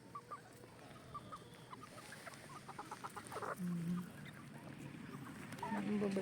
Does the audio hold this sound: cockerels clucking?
yes